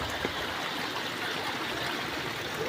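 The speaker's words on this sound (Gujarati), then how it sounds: "કેટલું પાણી જાય અહીંથી અત્યારે તો ઓછું થઈ ગયું હો" Rainwater rushing through Khajudra village after heavy rain, a steady close wash of flowing water with a constant, even roar and no voices.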